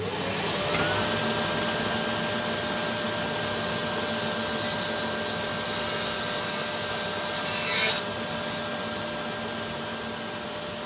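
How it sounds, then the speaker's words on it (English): Table saw trimming dry 9mm plywood for a stacking tote, a steady loud whine with a sustained cutting rasp through the whole stretch and no talking. "I'm trimming back the lower section, the legs, if you like, of the tote on the table saw"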